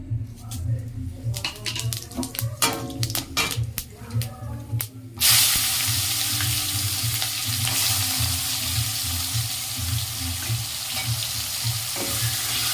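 Spices hit hot oil for tempering, then onions fry in the oil left from browning mutton. Scattered crackles and stirring come first under a voice, then a sudden loud, dense sizzle holds steady to the end.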